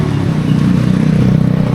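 Small trucks rumble past close by on a street in Phnom Penh, Cambodia, a loud, continuous low engine drone with some clatter that holds steady through the short stretch, with no talking.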